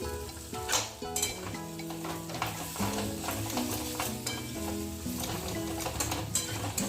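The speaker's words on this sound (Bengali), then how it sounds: "মশলাটা কষে গেছে এখন দিয়ে দেবো মাছের মাথাটা" A pre-fried rohu fish head stirred into sizzling spice masala in a pan, a continuous frying hiss with repeated utensil scrapes, under fairly loud tonal background music.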